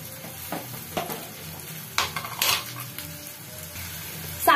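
Onions fry in a pan with a soft, steady sizzle, broken by scraping stirring strokes and a few sharper clinks of the utensil against the metal.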